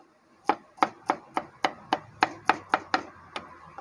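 A knife chops baby corn on a board at a Thai cooking class in Khao Lak, with about eleven crisp, close strikes at a steady, slightly quickening rhythm.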